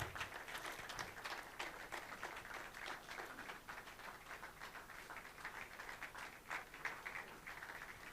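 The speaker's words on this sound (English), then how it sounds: "Please keep clapping till he comes up" Sustained crowd clapping in a hall at Jos Tech Fest 2024 while the commissioner makes his way to the stage, a dense, even patter of many hands at moderate level throughout.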